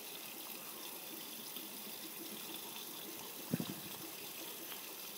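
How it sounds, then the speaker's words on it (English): Water runs into a Miele W562 washing machine filling for its final rinse with conditioner, a faint steady hiss and trickle with one brief knock partway through. "So we're taking in the conditioner at the moment. You can see it filling up."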